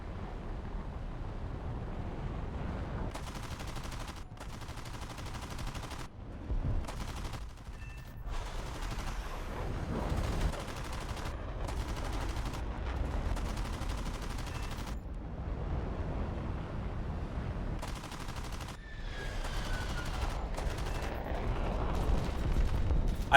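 Sustained automatic gunfire from the War Thunder video game, with dense bursts and rapid fusillades rolling almost continuously at steady loudness, with short gaps between volleys.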